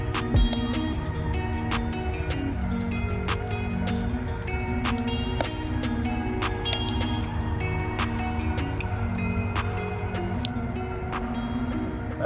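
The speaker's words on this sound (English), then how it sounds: "I poured even more water on it," Water poured onto a graphene ceramic coated car hood, making a steady, close patter of drips and small splashes that continues for the whole stretch with no speech.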